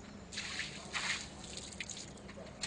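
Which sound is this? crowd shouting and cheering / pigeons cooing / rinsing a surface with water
rinsing a surface with water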